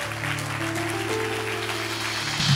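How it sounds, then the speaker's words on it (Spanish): A church congregation claps together in a steady, even patter throughout, with a low sustained tone underneath and no talking over it. "Apláudale."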